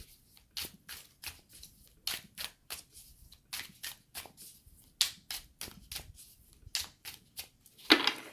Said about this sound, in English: Then I, again, overhand shuffle 7 times.